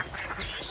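Ducks quack briefly on a village pond, a short burst of calls at moderate distance with no talk.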